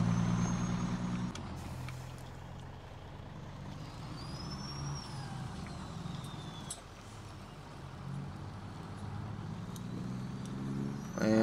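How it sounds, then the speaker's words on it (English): A truck drives in the Farming Simulator 17 video game, its engine rumbling steadily from a low start, with a brief hiss and faint tonal chirps over the motor, and nobody speaking. "So let's get this truck pulled up."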